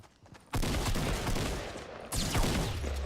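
Gunfire from a distance in Fortnite, heard as two loud bursts of rapid shots separated by a short lull and ringing out over a quiet start, with no talking.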